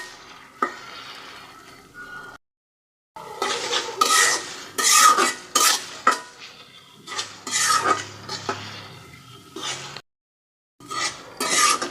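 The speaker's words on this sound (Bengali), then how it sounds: "এখানে পেঁয়াজ কুচি দিয়ে নিচ্ছি, সামান্য একটু লবণ দিয়ে নিচ্ছি।" Chopped onion and a pinch of salt going into hot oil in a pan for an egg dish, giving bursts of crackling sizzle, clinks of a utensil against the pan and scraping stirs, broken by short silences.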